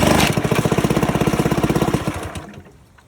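A 1969 Johnson Sea Horse outboard motor runs with a loud, rapid, even chugging pulse, close up, for about two seconds before it sputters, fades and stops.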